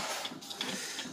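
Photocopier copying pages of handwritten lines, a steady whirring mechanical hum with soft rhythmic pulses, moderately close and unaccompanied by talk.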